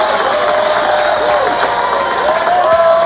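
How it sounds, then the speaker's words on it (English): A wrestling arena crowd cheers and applauds loudly and steadily, a dense wash of clapping and shouting with whistles and rising yells throughout. "This crowd is losing their mind."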